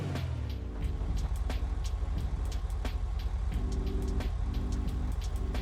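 The Pfister Comet sports car in GTA V runs with a steady engine drone, loud and continuous with repeated short ticks or shifts over the rumble.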